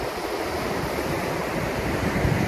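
Ocean waves roll onto the beach at Myrtle Beach, South Carolina, a continuous broad wash of surf mixed with wind rumble on the microphone, close and steady with no talking.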